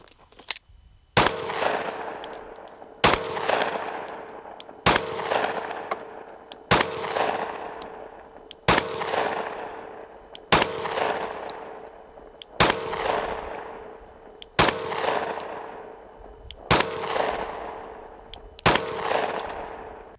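Ten loud, sharp Glock pistol shots firing Fiocchi ammunition with a Recover 20/20 brace, spaced about two seconds apart in a steady rhythm, each crack followed by a long outdoor echo tail, with no talking.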